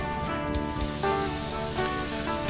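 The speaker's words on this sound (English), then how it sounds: "just using some compressed air to blow out all the dust" A blast of compressed air blows dust off an oak cabinet part, a loud, steady hiss up close, with faint knocks and clicks beneath it.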